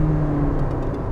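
Engine of a 2019 Toyota Sienta Hybrid with a 1.5-liter engine revs loudly while the car sits still, a steady droning whir and rumble that holds throughout.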